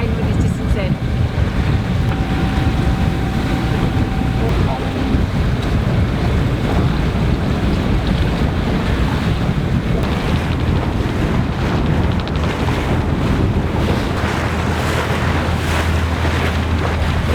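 A sailboat glides on autopilot in about 3 knots of wind off Elba, with a steady wash of water, wind rumble across the microphone and a faint hum, continuous and unbroken.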